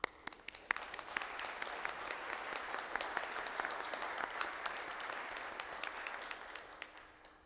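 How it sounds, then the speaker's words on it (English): Applause from an award ceremony audience honouring public service award recipients, steady dense clapping that holds evenly throughout with no voices over it. "I'll simply say a heartfelt thank you and applaud."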